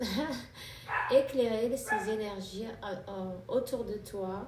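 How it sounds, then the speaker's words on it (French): A dog barks and yips in the background of a home while someone speaks French steadily in the foreground, the dog's sounds mixed in under her voice. "Je suis désolée pour le chien."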